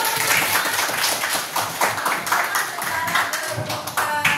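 A school class claps together for a student's answer, a brisk, busy patter of many hands in a room, with some voices mixed in beneath the clapping.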